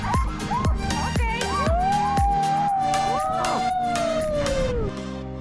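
Huskies howling together during a husky sled ride in Lapland, several long rising and falling wails layered over one another, close and clear, with quieter yips and barks mixed in.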